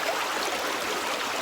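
A woodland stream flows steadily off-trail, a continuous close wash of rushing water with no pauses.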